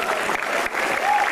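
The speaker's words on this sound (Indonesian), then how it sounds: "Gak usah tepuk tangan." An audience claps in a steady, dense burst of applause filling the room during a Betawi lenong comedy show, loud and continuous throughout.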